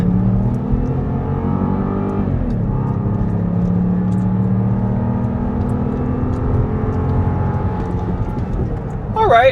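A 2026 Jeep Grand Cherokee with the Hurricane 2.0L engine accelerates at full throttle in sport mode. The loud engine drone climbs in pitch, drops briefly at a gear change, then rises steadily again.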